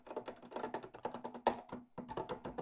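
Keys on an M-Audio Keystation 49e MIDI keyboard are pressed in quick uneven runs, giving a close, dry clatter of plastic taps and thumps with a short pause before the tapping resumes.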